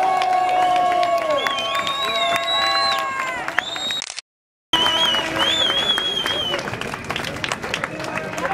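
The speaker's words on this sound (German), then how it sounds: "Einen großen Applaus an uns alle" A crowd at a stage event applauds and cheers loudly, with whistles and voices mixed into the clapping, a brief cutout midway, then the noise resumes just as strong.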